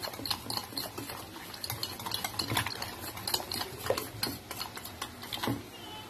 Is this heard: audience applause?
no